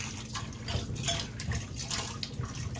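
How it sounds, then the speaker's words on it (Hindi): Mangoes being washed in clean drinking water for pickle, with sloshing and splashing of water and occasional clinks against a pot or bowl, close and continuous. "इसको साफ पीने वाले पानी से वॉश करना है।"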